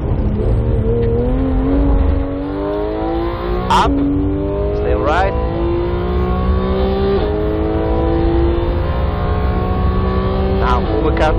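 Porsche 911 GT3 MKII race car on the Red Bull Ring, its engine rising through the revs in repeated climbs broken by sharp gear changes, loud and close, with a coaching voice speaking over it throughout.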